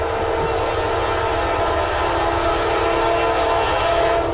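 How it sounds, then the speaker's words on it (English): A Norfolk Southern freight train led by Dash 9-40CW and AC44C6M locomotives blasts a loud, sustained horn, steady and close, over the rumble of the passing train. "Lay on that horn."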